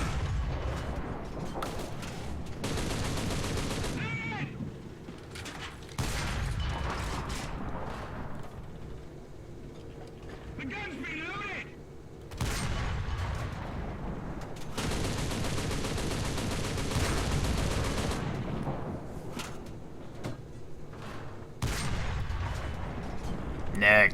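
Tank cannon blasts and bursts of machine-gun fire ring out in a World War II-style tank game featuring Japanese tanks, with heavy booms and rattling fire amid engine and mechanical noise over a long stretch, and a voice talking at times.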